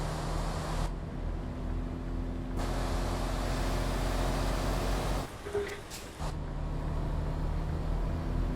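A truck engine in American Truck Simulator held at the red line, droning steady and loud for several seconds with a brief dip and rattle midway before the drone resumes.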